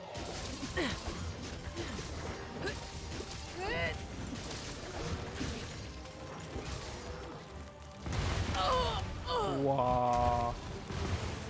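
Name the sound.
explosions in video game Monster Hunter Rise Sunbreak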